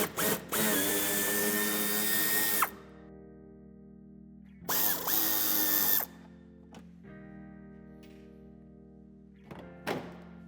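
A power tool whirs in short loud bursts as screws are removed from a BMW 2 Series convertible bumper inside the wheel arch, with pauses, a thunk and a brief final burst.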